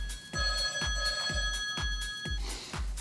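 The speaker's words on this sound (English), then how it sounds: "And there's my phone." A telephone rings in a regular repeating pattern, about six bright electronic trills spaced evenly and close by, with no talking over it.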